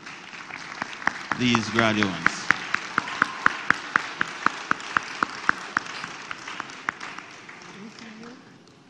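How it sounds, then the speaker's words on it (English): A small crowd claps for graduates at a 2022 Victor Dixon High School graduation ceremony: a burst of quick, sharp, separate claps that thins out gradually while a voice speaks briefly over it. "We invite a round of applause for"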